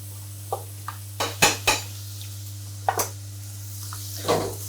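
Tagliatelle with lardons is stirred in a pan, giving a series of sharp utensil scrapes and clinks against the metal, irregular and close, over a faint steady hum and soft sizzle.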